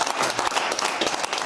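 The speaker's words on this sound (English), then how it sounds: "a big round of applause, to Andrew Doyle!" Brief burst of close, dense clapping from a studio audience greeting a guest, with no voices over it.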